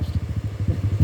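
A Kovi four-stroke motorcycle engine runs close by with a rapid, pulsing, slightly rough idle chug, loud and steady through the short moment, with no one talking.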